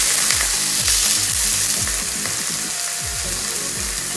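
Gammon fries loudly in a pan with a constant close sizzle and crackle, with repeated rhythmic scraping or stirring underneath; no talking.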